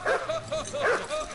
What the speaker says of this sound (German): Oh, ein Hund.